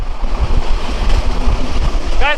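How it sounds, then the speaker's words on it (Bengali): The Burimari Express passenger train runs at speed, a loud, steady rumble with rhythmic wheel clatter throughout, a brief squealing tone near the end. "আমাদের পরিবার এক্সপ্রেস ট্রেনটি এখন পঁচাত্তর আশি পঁচাশি কিলোমিটার স্পিডে যাচ্ছে দেখেন"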